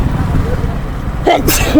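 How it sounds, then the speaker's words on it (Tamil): A single sharp sneeze bursts out near the end, loud and close, from a person riding a Yamaha R15 motorcycle, over a steady rumble of road and engine noise. "அப்படியே எனக்கு தும்மல் வருது."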